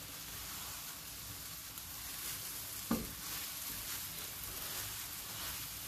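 Eggs and vegetables cook in a pan with a faint, continuous soft sizzle, and a single light clink or stir lands midway. No one speaks.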